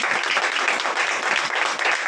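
A church congregation claps together in sustained, even applause that holds steady throughout, a dense crackle of many hands with no individual voices standing out.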